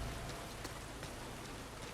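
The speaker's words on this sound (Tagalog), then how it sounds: "I like the detail na tinataas ni Ellie yung yung hoodie niya para kasi umaambon" Light drizzle patters steadily in the video game The Last of Us Part II, a soft, even hiss of fine raindrops with a few sharper taps, with no one speaking.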